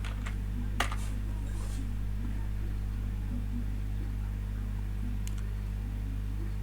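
A handful of sharp keystrokes on a computer keyboard tap out against a steady electrical hum, with a cluster near the start and another burst later.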